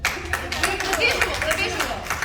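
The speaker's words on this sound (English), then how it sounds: "Okay, let's do the claps." Audience clapping at an Outlander panel at San Diego Comic Con, scattered hand claps and light crowd chatter in a big hall, with voices heard over the claps.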